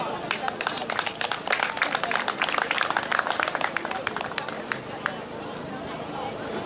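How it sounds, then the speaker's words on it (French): Audience at a school excellence day ceremony in Montréal bursts into brisk applause: many overlapping hand claps, dense and lively at first, then thinning and fading toward the end, heard from inside the room. "Je voudrais que nous applaudissions encore une fois cette idée"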